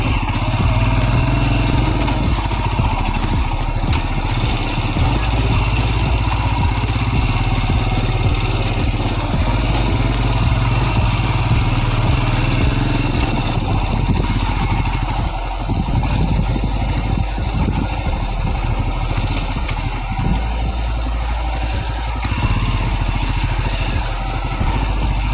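A motorcycle rides a rough mountain road near Singla, Majitar and Glenburn camp, its engine droning loud and steady throughout with rattling and bumps from the uneven surface.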